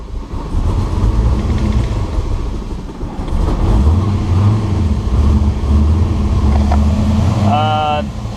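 A twin-turbo 6.0 Firebird engine rumbles and revs as the car pulls away, running rough and loud throughout, with a rising whine near the end.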